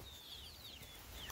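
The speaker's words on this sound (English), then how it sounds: "How many chickens are there?" Soft, scattered clucking from a group of thirteen chickens at feeding time, fairly quiet, with faint chirpy calls over a low background rumble.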